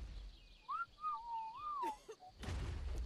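Player whistle command in the ARK video game, a single sliding melodic whistle lasting about a second and a half, moderately clear over low background rumble, followed by a brief noisy burst.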